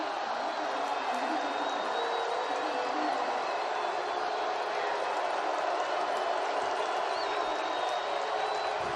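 Dense, steady roar of a stadium crowd cheering at a college football game, Old Dominion at Georgia Southern, sustained at an even loudness throughout with scattered clapping mixed in.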